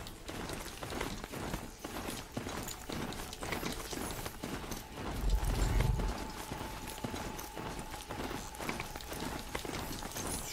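Riding a mount in Horizon Zero Dawn: a rapid, steady clip-clop of galloping hooves, with a low thump midway and faint mechanical whirring beneath.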